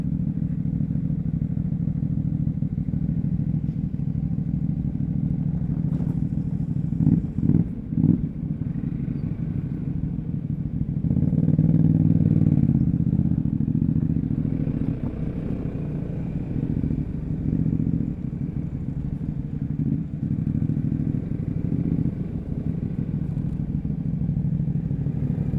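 A small underbone motorcycle engine drones steadily throughout at close range, with a few clattering bumps midway and a brief swell as it speeds up, riding a rural road in Malaysia.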